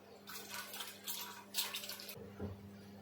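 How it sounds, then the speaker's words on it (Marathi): Cold water pours into a pot of warm water, a short splashing gush in a few bursts over about two seconds, close and fairly soft, then a brief low clunk as it stops. "ह्याच्यात मी थोडं थंड पाणी टाकणार आहे"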